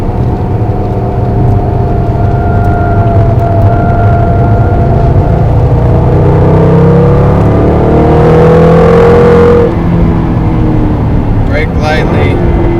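A 2011 Jaguar XKR accelerates around a race track. The engine note is loud, close and continuous, with its pitch sweeping upward and shifting through gears over a constant drone of road and wind.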